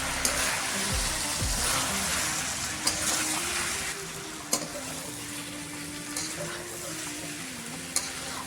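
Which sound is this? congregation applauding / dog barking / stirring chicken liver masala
stirring chicken liver masala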